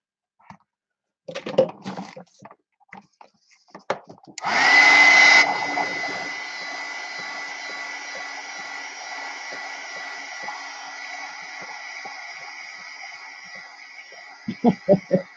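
A hair dryer blasting air to dry a watercolor painting, switching on with a loud burst and then running as a steady whining hiss for several seconds amid light handling noises.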